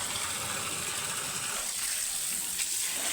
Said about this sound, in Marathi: पाणी पाणी पाणी बंद कसं करायचं